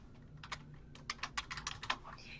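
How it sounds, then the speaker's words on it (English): Typing on a computer keyboard while entering a time into scheduling software: a quick run of light, close key clicks in an irregular rhythm, with a few isolated taps before it. "You'll see here I'm typing in a specific time, like 10 a.m."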